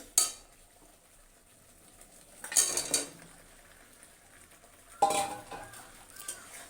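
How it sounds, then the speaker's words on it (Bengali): Pieces of desi chicken go into fried spice masala in a pan, giving three separate bursts of sizzling and scraping stirring with quiet gaps between them and no talking. "তো মশলাটা কিন্তু কষানো হয়ে গেছে। এই যে দেখুন, এখন আমি দিয়ে দেবো মাংসগুলো।"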